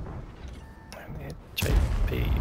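A tank gun shot in a video game battle, a sudden loud boom near the end that rolls on, following quieter engine and mechanical noise with someone talking over it.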